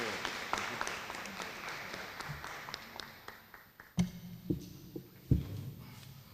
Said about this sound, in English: May we have a round of applause for his service as a board chair